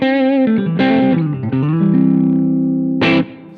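Electric guitar played through distortion, a short riff of sustained, gritty notes and bends ringing loud and close, with no voices over it.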